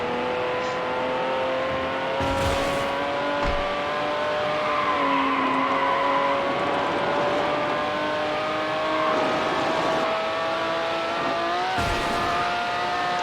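A fast car roars around a track in the video game Need For Speed Hot Pursuit 2, its engine note rising steadily and loudly, with bursts of tire squeal and skidding throughout.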